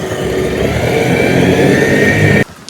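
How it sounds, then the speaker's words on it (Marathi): A boat engine droning loud and steady as the boat pulls away after scuba diving and water activities, holding an even roar before cutting off abruptly near the end. "आता आमची बोट आम्हाला सोडून चालली आहे"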